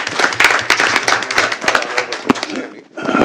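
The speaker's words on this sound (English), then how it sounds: "let's give Mr. Meyer a round of applause" An audience at a school board meeting applauds, a dense close burst of clapping that fades briefly near the end and then picks up again.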